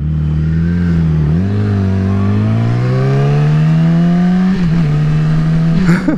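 A motorcycle engine pulls hard during a ride through intersections around the time of Hurricane Irma. The loud, close exhaust note climbs steadily in pitch, briefly dips as if shifting gear, then keeps rising before easing off near the end.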